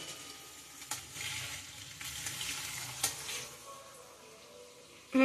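Food fries in a pan while being slowly stirred, a soft continuous sizzle with gentle scraping strokes, fairly quiet, ending in a sharp louder knock.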